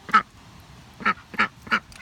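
Backyard ducks on a muddy farm give four short, close quacks: one alone, then three in quick succession after a pause, with no voices in between.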